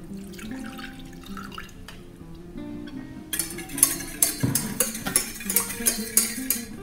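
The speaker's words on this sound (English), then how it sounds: "adding our cold water" Cold water pours into a pot holding sugar and glazing powder for a Moana-themed sand cake, a splashing, bubbling stream that grows louder and more broken in its second half, heard alone over soft kitchen background.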